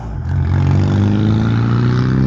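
A passing car, probably a diesel, with a rough-running engine heard outdoors on a walk, a loud, steady, low rumbling drone that rises quickly and holds close by, with no talk.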